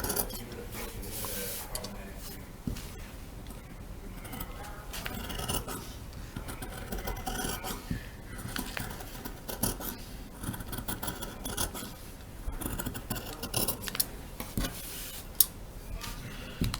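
Scissors cut through fabric laid flat on a bench top close by, a steady run of rasping snips with small clicks and scrapes, no voices.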